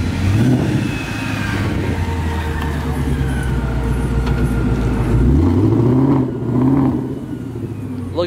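Ford Mustang muscle cars at a Myrtle Beach Mustang festival rev loudly and close by, with rising and falling engine pitch sweeps across several seconds, under crowd noise and some talk.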